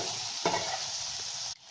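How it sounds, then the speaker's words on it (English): Sliced onion fries in a pan for chilli garlic noodles, a brief, steady, close sizzle with one spatula scrape that ends abruptly. "we will add the sliced onion, and we will fry it until the onion becomes golden in color"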